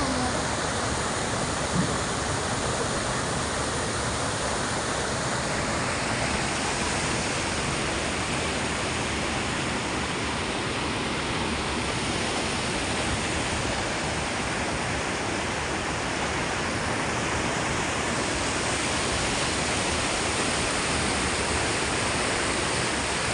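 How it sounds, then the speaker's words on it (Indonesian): A strong waterfall at a campsite pours down in a steady, dense roar that stays loud and unbroken throughout, with no voices or other sounds standing out. "air terjun ini soalnya kencang banget, airnya jatuhnya itu garis gitu"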